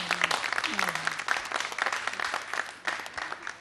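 Audience applauding to welcome a dholak player at a music performance, dense continuous clapping with a few brief voices mixed in.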